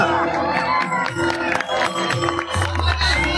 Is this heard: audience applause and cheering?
yes